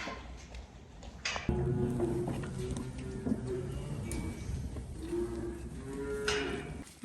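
Dairy cows mooing steadily in a barn around sick calves, several deep overlapping lows carrying through most of the stretch, fairly close and loud, with no talk over them.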